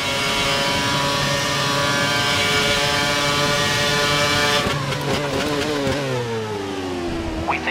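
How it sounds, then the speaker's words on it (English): A race car engine screams at full revs during a club race at Abu Dhabi, a sustained, loud, high-pitched drone that dips in pitch toward the end. "We think the car behind is running on full revs."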